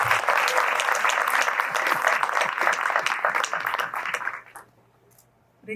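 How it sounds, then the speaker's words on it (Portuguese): An audience at a talk applauds steadily and loudly for about four seconds, then the clapping thins out and fades to near silence. "Eu gostaria de pedir uma salva de palmas para a nossa moderadora"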